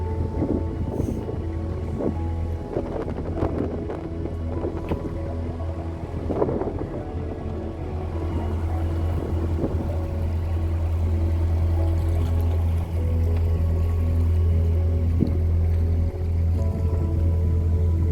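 A narrowboat engine cruises along the River Soar with a steady, low, throbbing drone that holds at an even pitch throughout, alongside faint wind buffeting and water wash.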